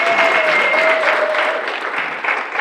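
Audience applause at a social business conference keynote, steady dense clapping for about two and a half seconds while a faint tone runs briefly underneath, tapering slightly toward the end.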